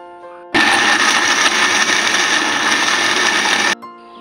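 Kitchen blender grinding a spice paste of shallots, garlic, star anise, ginger, red chili and bird's eye chili with coconut, a loud, steady whirring roar that starts abruptly, runs about three seconds and cuts off.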